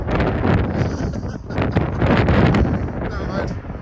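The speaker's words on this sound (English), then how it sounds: "it's windy up in the hills" Strong wind blowing on the moorland hills at Saddleworth Moor, loud gusty roaring buffeting close against the microphone with no clear words.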